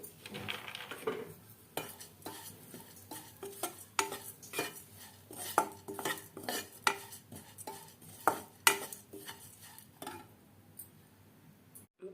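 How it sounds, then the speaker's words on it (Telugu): Oats being dry-roasted and stirred in a pan for flax seed laddu, with repeated close scrapes and clinks of a spoon against the metal pan at an irregular pace, no talking. "ఇప్పుడు కొన్ని ఓట్స్ వేసుకుంటున్నాము. ఇవి కాస్త లైట్గా వేగితే సరిపోతుంది."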